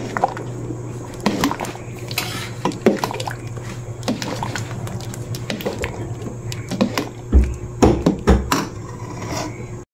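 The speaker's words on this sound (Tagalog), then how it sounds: "At ating pong hahaluin." Stirring a pot of sweet taro, sweet potato, corn and banana dessert cooked in coconut milk, with irregular wet squelches and knocks of the spoon against the pot, close and fairly loud.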